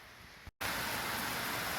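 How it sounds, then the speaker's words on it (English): A steady wash of heavy rain pours down, briefly cutting out for a moment before the dense hiss resumes. "we got a downpour"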